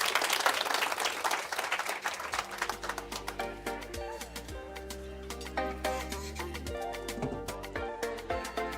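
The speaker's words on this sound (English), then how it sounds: "Let's give her a hearty round of applause." Audience applause at a corporate sustainability report launch by Absa Kenya: dense, loud clapping from a crowd at the start that thins out as music with sustained tones takes over.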